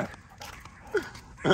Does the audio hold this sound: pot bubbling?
no